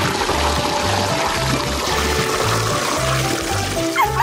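Milk is poured over someone as a milk shower, a steady loud splashing pour with rhythmic gurgling pulses, ending with a faint squeak-like sound.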